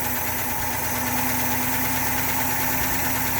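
A 1965 Pontiac Grand Prix barn find with a 389 V8, revived after sitting more than 25 years, idles steadily and smoothly. The loud, close engine rumble runs without a break, and no one speaks.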